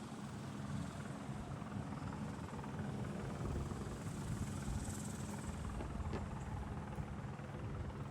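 A rescue helicopter hovers over a flood site with a steady, distant rotor drone. The sound stays even throughout and is mixed with faint background noise.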